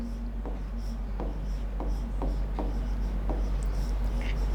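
Marker or chalk writing on a classroom board during a chemistry lesson, a series of short scratchy strokes in an irregular rhythm over a steady low electrical hum, close and fairly quiet.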